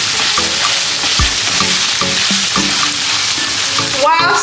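Ragu sauce of tomato cooked in oil fries and sizzles steadily in a pan, with repeated scraping and knocking of a spoon as it is stirred close up.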